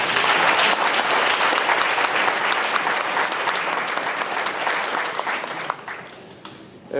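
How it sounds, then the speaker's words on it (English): A university audience gives a long, loud round of applause for an ambassador, a dense crowd clapping that holds steady before tapering off at the end. "let's give the Honorable Ambassador a very big round of applause"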